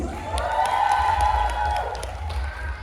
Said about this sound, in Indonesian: Beri tepuk tangan semuanya untuk Kak Ais.